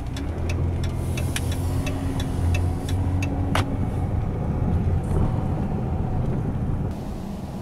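A Chrysler Town & Country minivan with a 3.6 V6 Pentastar engine hums steadily while driving, a low, even drone under wind noise with a few faint clicks and no talking.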